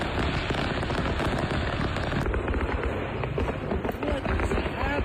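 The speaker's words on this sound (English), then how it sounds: "The fireworks truck that blew up on the side of the road." A fireworks-laden trailer bursts on a Tennessee highway roadside, rapid crackling explosions and pops in a dense, loud barrage with voices mixed in.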